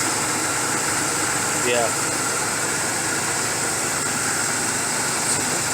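A car engine, a 350 fitted with a small carburetor, idles with a steady, even rumble and hum throughout, with a brief spoken word over it.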